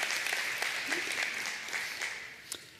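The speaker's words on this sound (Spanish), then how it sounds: "Le doy un aplauso fuerte." Church congregation clapping loudly after the preacher calls for applause, a brisk, fairly close burst of many hands with a few sharper individual claps standing out, fading a little at the end.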